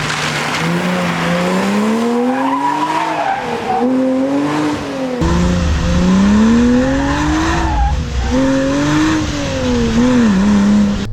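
A Porsche Cayman 987 with a 2.9 engine drives on the road, its engine rising and falling through gears in repeated revving pulls, loud and close, with a brief shift break and tire noise underneath.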